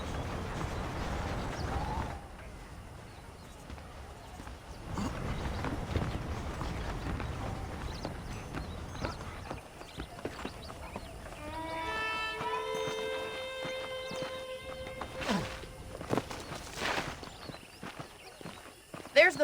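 Horse hooves clip-clop at a walking pace in the Red Dead Redemption video game, a steady moderate rhythm under ambient game sound, with someone talking in the background and a brief musical tone partway through.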